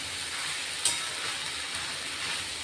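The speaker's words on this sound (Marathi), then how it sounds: "कांदे, टोमॅटो, हिंग, लसूण हे सर्व मसाले मिक्स झालेले आहेत ना, ते चांगले परतवले गेले पाहिजेत" An onion, tomato, asafoetida and garlic masala for a dry cauliflower sabzi sautés in a pan with an even, close sizzle and a single sharp clink of a utensil early on.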